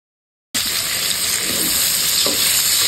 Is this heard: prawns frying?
yes